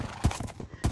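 Horse hooves clip-clop in a Minecraft realism modpack, three or four distinct thuds in an uneven walking rhythm, close and moderately loud, with no voices.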